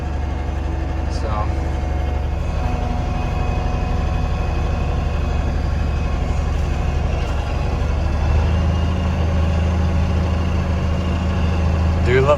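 The engine of a Panther 1000 tractor out in a field on a test run drones loud and steady at a low pitch, shifting slightly in tone near the end.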